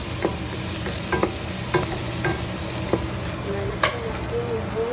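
Garlic frying and being stirred in a pan for chopsuey, a steady close sizzle broken by repeated sharp scrapes and clacks of a utensil against the pan, with no talking.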